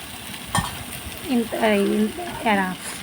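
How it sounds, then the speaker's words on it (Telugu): A spoon scrapes and stirs tempering into lentils for sambar in a pot, with soft sizzling bursts and clinks of metal, and a voice speaking briefly alongside. "ఇప్పుడు ఈ తాలింపుని మనం పప్పులో కలుపుకుందాం."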